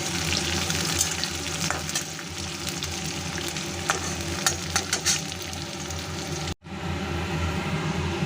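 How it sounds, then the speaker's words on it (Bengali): Steady, loud sizzling of onions frying in hot oil until browned, with a dense crackling hiss throughout and a brief cut near the end. "আমি এটা কিন্তু লাল করে ভেজে নেবো জাস্ট একটু বেরেস্তার মতো"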